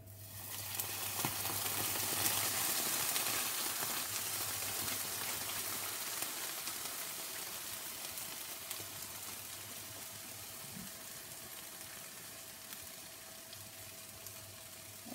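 Meatballs frying in a pan give off a steady, moderately loud hiss and crackle, like light rain, continuing unbroken throughout with a faint background hum.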